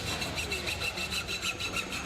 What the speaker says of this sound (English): now he's going to take his hacksaw and cut it